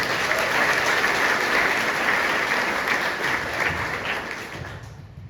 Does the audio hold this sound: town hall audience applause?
yes